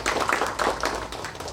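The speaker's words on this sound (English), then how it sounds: "I think a big round of applause to Leela." Brief burst of audience clapping at a performance event, a few people's hands heard distinctly, moderately close and fading quickly.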